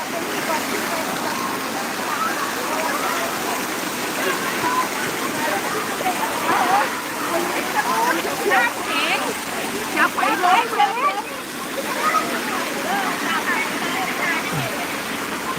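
Water flows steadily at a Thai temple, a continuous rushing splash like a small waterfall or stream. People talk over it at moderate level throughout.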